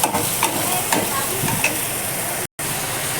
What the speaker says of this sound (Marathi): कांदा टोमॅटो पण चांगला भाजतोय